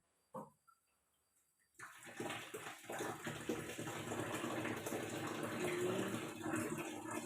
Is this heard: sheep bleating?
no